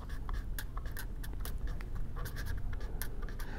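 Chalk or marker strokes on a board during a lecture on transient conduction and Heisler charts, a run of quick scratchy strokes in uneven bursts, close and fairly clear over a low room rumble, with no speech.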